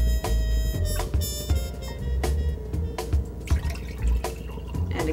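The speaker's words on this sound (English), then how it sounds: "pour in the water." Water pours into a glass, a continuous close trickle and splash with small irregular drips and clinks, fairly loud and steady throughout.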